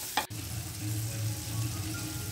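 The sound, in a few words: sautéing carandas berries in pan with salt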